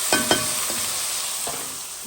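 Boucané with tomato and thyme cooks in a pan, a soft steady sizzle with a few light stirring scrapes near the start, no talking.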